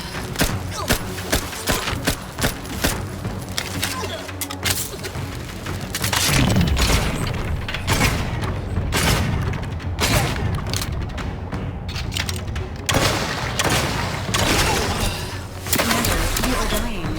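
Gunfire and heavy impacts from a firefight in The Outer Worlds 2, set in Golden Ridge, with dense bursts and booms over a steady game mix and a synthetic voice speaking at times.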